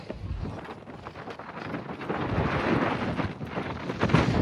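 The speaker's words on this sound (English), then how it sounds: "It's very windy right now." Strong wind gusts roar steadily across an open grassy hilltop at the Chocolate Hills in Bohol, Philippines, buffeting the microphone with low rumbling bursts that swell louder toward the end.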